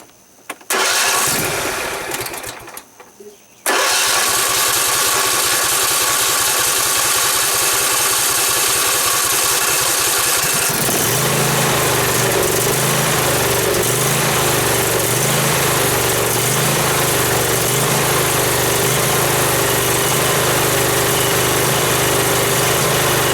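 A Husqvarna YTH24K48 riding lawn mower engine cranks briefly, stops, then catches and settles into a loud, steady idle that roughens partway through, running close and continuous.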